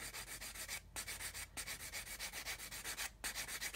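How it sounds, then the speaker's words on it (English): A rigid sander stick is worked against a plastic part of a 1/72 Italeri/AMT B-52 model kit, giving steady rhythmic scraping strokes close by with a few brief pauses, and no talking. "Just keep sanding away like so."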